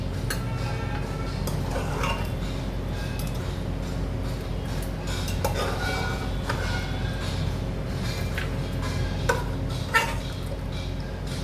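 Chicken pieces lifted out of a cooled pressure cooker while making biryani, with scattered light metallic clinks and taps of utensils over a steady low kitchen hum.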